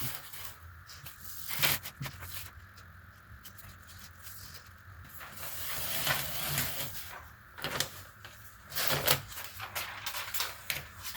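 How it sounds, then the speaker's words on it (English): Tape being pulled off and unrolled while flocking a telescope tube black, heard up close as crackling, tearing rips in several bursts with some quieter handling in between. "Let's pull this tape."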